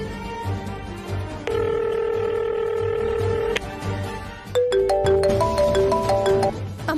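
A telephone rings on and on with no one answering, the steady electronic ring tones repeating in a domestic drama scene. A faint voice sits beneath.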